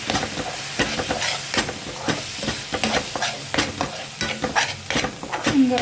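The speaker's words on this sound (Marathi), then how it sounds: "आता आपण याच्यात घालणार आहोत ही आलं लसणाची पेस्ट केलेली. ती देखील हलवून घेऊया छान." Ginger-garlic paste stirred and frying in a pan, with a steady sizzle broken by repeated scraping strokes of a spoon against the pan, close and fairly loud throughout.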